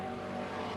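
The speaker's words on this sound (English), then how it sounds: "Here's those two Porsches we were talking about earlier." Porsche race cars pass on a circuit at a classic car race meeting, a steady tonal engine drone heard at moderate distance throughout, no voices.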